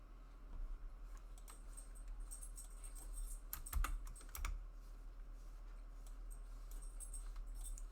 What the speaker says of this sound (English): This is what I'm typing.